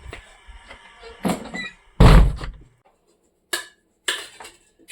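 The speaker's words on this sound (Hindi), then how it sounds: "दरवाज़ा बंद कर लेती हूँ, दरवाज़ा खुला छोड़ के आ गई मैं यहाँ पे।" A door on a rural farm home swings shut, giving one loud thud near the middle, with quieter knocks and clatter around it and a few brief taps afterward in a quiet room.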